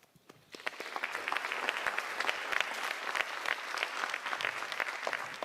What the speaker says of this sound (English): Another LPS round of applause for Melody Meyer.